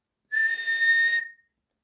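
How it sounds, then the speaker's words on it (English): A single steady whistle blast, about a second long and fairly loud, sounds alone to start a beginners' swimming race at an indoor pool, cutting off cleanly into silence. "Mr. Pollock blew his whistle to start the race."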